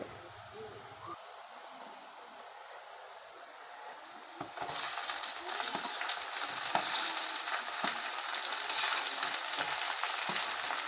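Chopped tomatoes dropped into hot oil for a village-style egg curry set off a sudden loud, steady sizzle partway through, after a quieter stretch of low pan noise with a brief stir.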